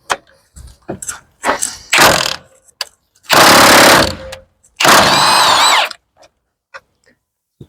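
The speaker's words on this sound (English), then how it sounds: "Right, I'm going to undo these 3 bolts. They're E14 torque bolts, so just undo them." A power tool undoes E14 Torx bolts on the water pump of a Vauxhall Corsa D 1.2, with two loud sustained buzzing bursts between scattered clicks, clanks and tool handling, close and sharp.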